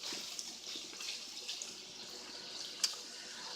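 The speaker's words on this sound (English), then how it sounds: "Then I'm just going to add 2 cups of water to this and let the sausage continue to cook" Water pours into a hot pan of browned sausage with sautéed peppers and onions, a steady soft hiss-and-splash running throughout with one brief sharper spatter near the end, no talking.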